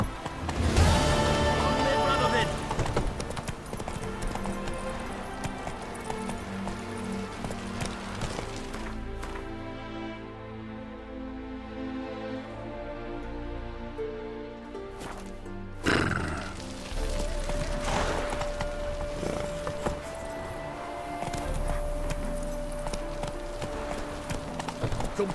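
A horse in The Witcher 3 video game gallops with rapid clip-clopping hooves and gives a whinny. The hoofbeats are loud and close, with a brief quieter stretch partway through before the galloping resumes.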